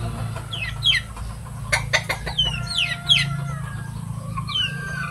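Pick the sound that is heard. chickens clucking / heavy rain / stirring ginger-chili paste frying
chickens clucking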